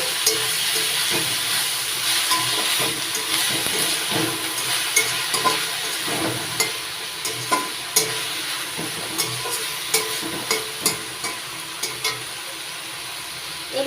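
Moringa leaves and potatoes stirred and mixed in a frying pan, with a steady close sizzle and hiss under repeated sharp scraping clicks of the spatula, no talking.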